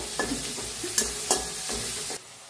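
Onion and tomato frying in a pan for a village-style cluster bean curry, a steady close sizzle broken by several sharp stirring scrapes, ending abruptly after about two seconds.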